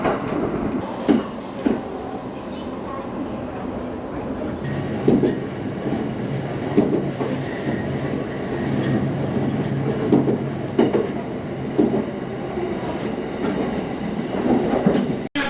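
An electric train runs along the Chiba line toward Kazusa-Ichinomiya, a steady close rumble with rhythmic wheel clatter and occasional squeals throughout, no voices.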